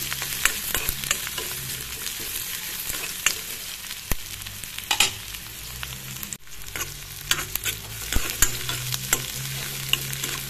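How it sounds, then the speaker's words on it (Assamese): Sliced onions fry in a pan with fresh green chillies, browning as a spoon stirs and scrapes them, a steady sizzle broken by sharp metallic clinks and scrapes. "পিঁয়াজখিনি অলপ ৰং চঙোৱা হ'বলৈ দিম"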